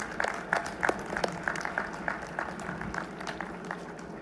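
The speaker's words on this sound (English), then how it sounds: "Will everyone please join me in a round of applause to show our appreciation for Professor Stump." A commencement audience claps for a professor at a 2021 university graduation, sparse, fairly faint applause with distinct individual claps standing out early and thinning toward the end.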